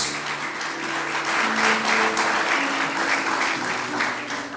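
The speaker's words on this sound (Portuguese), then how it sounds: "Você pode aplaudir o Senhor nessa noite?" A church congregation applauds steadily throughout, a dense sustained wash of clapping with a faint tonal hum running underneath.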